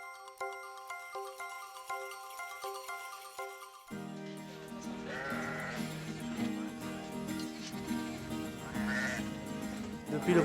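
Sheep on a farm with a flock of 350 breeding ewes bleat a few times over music, the calls rising out of a dense mix after a tinkling, bell-like opening.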